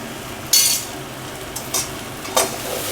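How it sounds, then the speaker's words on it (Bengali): Potatoes fry with salt and turmeric as a utensil stirs them in a pan: three bright bursts of scraping sizzle over a quiet background hiss, close and clear, with no talking. "এবারে আলুটা নাড়াচাড়া করে ভেজে নেব।"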